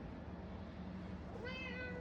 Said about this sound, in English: I guess our kitty wants to be in the video here.